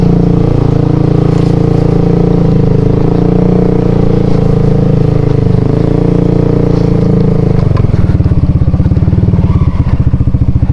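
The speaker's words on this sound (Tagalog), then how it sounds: "tingnan natin kung kaya yung motor natin dito kasi malalim" A motorcycle on knobby mountain tires pushing through a deep water crossing near a waterfall, engine droning loud and close throughout, with a rougher, choppier rumble near the end.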